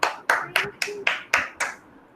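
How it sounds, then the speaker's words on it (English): Children in an online kindergarten class clap for a classmate's birthday, about seven sharp separate claps at a steady even pace, fairly close and clear, with a faint voice briefly underneath. "Clap for Satvik, everyone"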